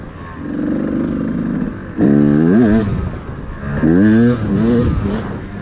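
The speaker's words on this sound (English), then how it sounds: "I like to start at a low RPM and whack the throttle open." A two-stroke engine fitted with a Keihin PWK carburetor revs up from low RPM as the throttle is snapped open, giving two loud, rising rev bursts over a steady close idle.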